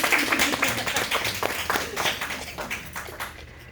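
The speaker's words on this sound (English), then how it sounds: "Give yourself a round of applause." A cosmetology class at a technical school claps for itself, the close, loud individual handclaps forming a brisk, uneven patter throughout the short stretch.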